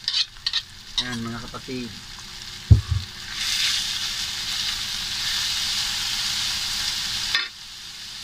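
Shrimp paste (bagoong alamang) frying in a pan with eggplant makes a steady sizzling hiss for most of the clip. A brief clatter and a spoken voice come near the start.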